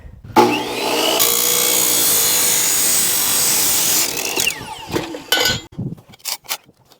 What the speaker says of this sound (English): So we'll cut that off. Let's plug the saw back in.